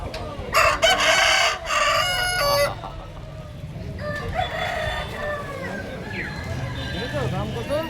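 A rooster crows loudly near the start, then chickens cluck on and off while people talk nearby, at a roadside hotel at Ajodhya Hills, Purulia.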